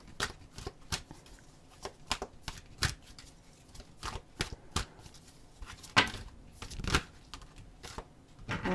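Tarot cards shuffled in a pack, a steady run of close, crisp riffling and snapping bursts with a few louder slaps, heard alone without voices.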